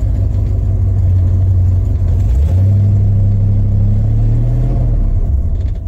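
A 1991 Ford F-150 engine drones loud and steady with a low rumbling hum, rising in pitch partway through as it revs while the tires slip, with no talking over it.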